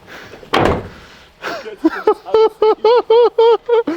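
A Ford Ranger pickup's door slams shut once with a loud, close thud. A rapid, rhythmic series of short tonal bursts follows.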